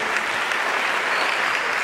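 Congregation applauding Jesus during a church discipleship service, a steady, dense wash of clapping filling the whole short moment with no voices over it.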